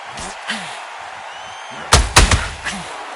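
Boxing punches landing in Undisputed, a pair of sharp heavy thuds in quick succession followed by a softer hit, under short grunts and voice sounds.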